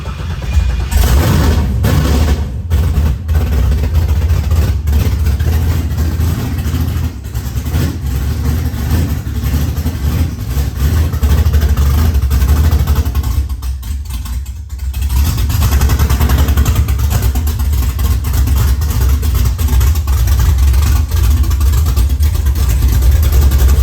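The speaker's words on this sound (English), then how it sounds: "we were shocked that the car fired right up" A project car engine catches on its first start and runs loud and steady, with revs rising and falling over a constant low rumble, dipping briefly before picking back up.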